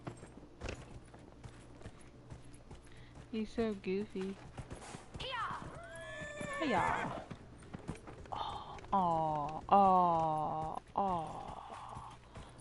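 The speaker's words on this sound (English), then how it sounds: "Oh, I can call my horse out here." Rhythmic clip-clop of horse hooves alongside several loud whinnies from the game Dragon Age, with a person talking and exclaiming over them.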